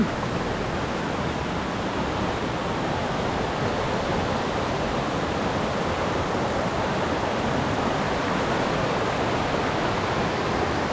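Chet Khot waterfall in Saraburi, its water cascading down tiers over rocks, gives a steady, unbroken roar that fills the whole stretch, with no one talking.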